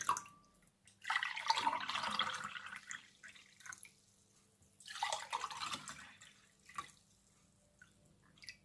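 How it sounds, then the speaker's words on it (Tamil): Homemade lemon juice pours into a cup in two main bursts of liquid splashing and trickling, close and clear, ending with a few scattered drips and no voices. "நாங்கள் கப்பில் ஊற்றிட்டு குடிக்க வேண்டியது தான்"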